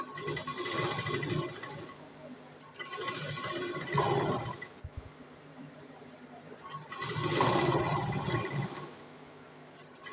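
An electric sewing machine stitches a katori blouse in a home workroom, running in three loud, close bursts of rapid whirring separated by quieter pauses.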